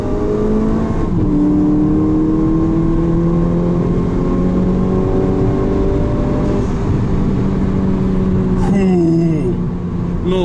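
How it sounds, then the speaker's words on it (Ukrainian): A Volkswagen Jetta GLI tuned to 300 horsepower holds a loud, droning rev with a raspy exhaust, pitch gradually climbing, then dropping and rising again near the end. "Той вихлоп він приємний."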